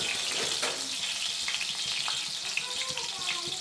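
Onions frying in hot oil in a pan, a steady soft sizzle with faint crackles and water-like hiss throughout, close by, with no talking.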